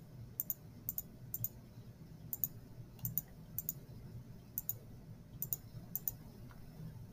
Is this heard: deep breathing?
no